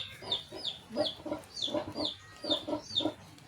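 A hen clucks repeatedly in short, rhythmic bursts, close by and fairly soft, with brief pauses between the clucks.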